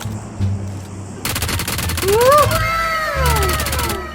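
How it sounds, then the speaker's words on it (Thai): P90 submachine gun fire in PUBG Mobile, heard as a loud, rapid burst of close automatic shots, followed by another burst, with a game voice and sweeping tones layered over it. "ในที่สุดผมก็ได้ปืนใหม่มาแล้ว พี90 เวอร์ชันใหม่เหรอ อุ้ย มันเป็นไงวะเนี่ย ลองเล็กยิงดิ"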